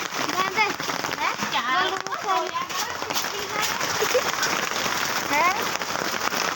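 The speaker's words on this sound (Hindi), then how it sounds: "जल्दी करो वर्षा आइला" Heavy rain pours steadily onto surfaces in Nalco Nagar, a dense continuous patter, while several people talk and call out urgently over it.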